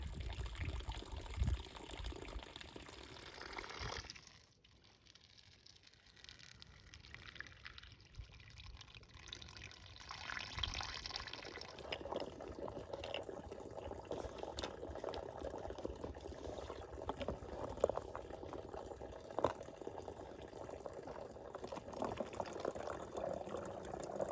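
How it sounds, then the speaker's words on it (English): Water from a mountain spring beside the Appalachian Trail in Tennessee runs and splashes steadily as it is collected, a continuous close trickle and gurgle lasting throughout with shifting intensity and no talk. "there is a spring like 30 yards from the trail, and I need some water. So I'm gonna go get some more water right now."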